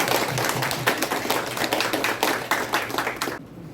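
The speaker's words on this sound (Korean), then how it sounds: "다시 한번 박수 부탁드립니다." Applause from an audience at a centenary commemoration of Han Yong-un's poetry collection, a few seconds of fairly close clapping with distinct individual claps that stop abruptly.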